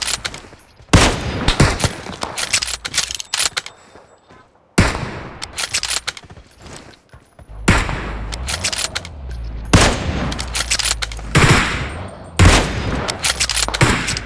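Sniper battle game gunfire with M24 and Kar98 rifles: loud sharp shots in irregular bursts with pauses between, some rapid volleys and booming thumps, close and dominant.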